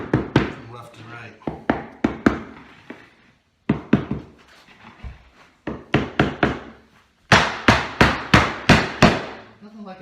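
Sharp wooden hammer taps on bamboo flooring planks being glued down, struck in quick runs of several blows with brief pauses between, close by.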